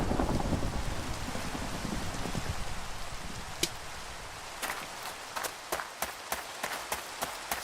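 Rain in a survival video game, a steady hiss of falling rain with a few sharp cracks and taps scattered through the latter half.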